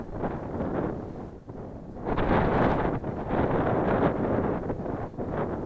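Gusty wind buffets the microphone in rough, uneven surges over an iced-over river, rising louder after a brief lull, with no talking.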